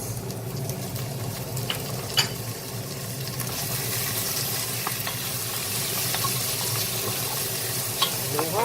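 Monggo with tomatoes being stirred in a cooking pan, a steady close sizzle with occasional scraping knocks of the spoon, continuous throughout with no talking.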